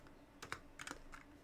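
Keys tapped on a computer keyboard at a desk, a short run of light, quiet clicks in a few loose bursts, close by and with no talking.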